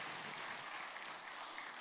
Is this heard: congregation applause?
yes